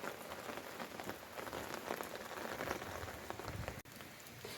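Steady rain falls on a garden of flower seedlings and cuttings, a dense continuous patter of drops close by with no voices, briefly interrupted by a single sharp tap near the end.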